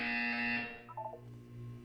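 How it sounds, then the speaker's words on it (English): In a Nintendo Switch video game, a buzzer sounds as a sustained tonal drone with a brief higher wobbling tone in the middle, steady and moderately loud throughout. "When you hear the buzzer, look down at the floor."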